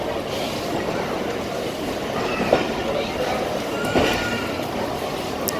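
A Jaffar Express train of Pakistan Railways pulls out of Wazirabad Junction with a steady, close rumble of wheels and carriages and occasional clanks and squeals rising above the continuous roll.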